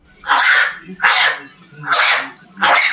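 A talking parrot imitates a human sneeze, giving four sharp, breathy bursts about a second apart, loud and close.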